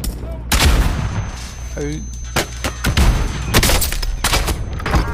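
Rapid bursts of gunfire in a multiplayer shooter, sharp cracks and volleys scattered through the clip over a steady game soundscape, with a player talking briefly between shots.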